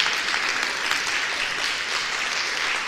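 A church congregation gives the Lord loud, sustained applause in a worship service, a thick continuous wash of many hands clapping evenly for several seconds with no talk over it.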